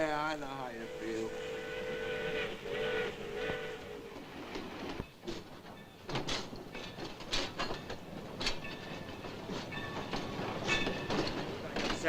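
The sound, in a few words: freight train moving into rail yard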